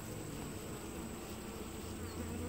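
A steady, faint buzz of many honey bees in a hive fills the air, a soft continuous hum with no voices.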